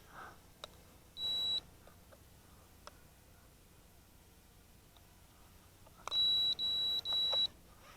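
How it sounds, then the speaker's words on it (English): Electronic beeps from an Eachine 3D X4 drone, a short single tone early on, then three quick bright beeps close together, with faint clicks between them and no talking. "Until you hear a beep."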